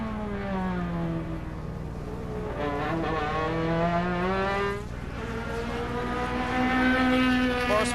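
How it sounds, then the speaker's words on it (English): A Nissan Sentra touring car races at Laguna Seca in the 2003 World Challenge, its engine droning and rising and falling in pitch through gear changes. The engine stays loud and close throughout, with no voice over it. "The sound of the Nissan Sentra."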